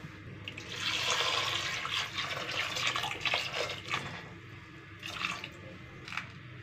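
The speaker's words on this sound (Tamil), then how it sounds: "இப்போ தேவையான அளவுக்கு தண்ணி சேர்த்துக்கலாம்" Water pouring into a pressure cooker while making sambar, a continuous splashing gush that swells early, then trails off into a few smaller pours and drips.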